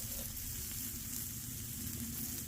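Cabbage and onions, a coleslaw mix, sizzle steadily in a hot pan, a dense even frying hiss that stays constant and fairly close with no voices.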